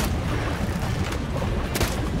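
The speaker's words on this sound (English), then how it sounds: "Spin it so I can do a broadside shot with my cannons." Cannon fire from a boat in The Witcher 3: Wild Hunt, a dense, continuous roar of booming blasts with no pause, loud and close, with no voices over it.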